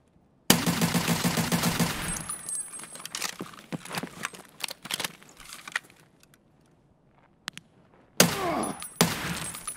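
Bursts of automatic gunfire from Escape From Tarkov, a loud rapid volley up front, scattered single shots and clicks through the middle, then another heavy burst near the end.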